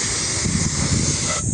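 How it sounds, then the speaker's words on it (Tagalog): A compressor spray gun sprays quick dry enamel onto a TMX155 motorcycle body panel. The continuous, loud, close hiss holds steady, then cuts off sharply near the end, with no talking. "okay, spray tayo mga bro."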